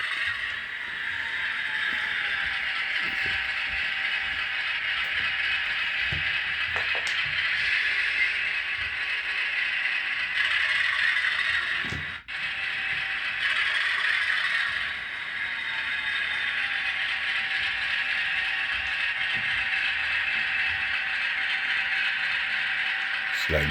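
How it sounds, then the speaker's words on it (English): Model train running around a military base layout, a steady mechanical whir and rattle of wheels on track with occasional clicks and creaks, moderately close and continuous. "you can see basically the train can just go on a run around."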